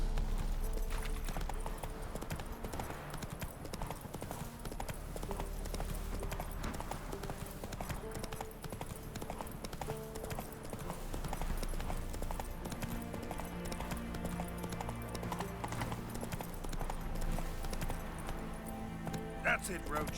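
Roach, Geralt's horse in The Witcher 3, gallops with a rapid, rhythmic clip-clop of hooves that runs continuously under game music and spoken dialogue.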